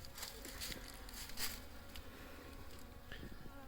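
Honey bees buzz around stacked frames and boxes of hive equipment from dead-out hives, a continuous close hum with a few louder passes as single bees fly near.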